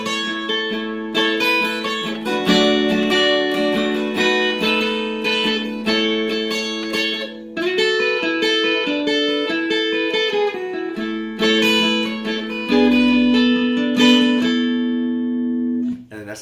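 An acoustic guitar plays the verse of a song in clear, ringing picked notes and chords, close and steady, with no talking over it.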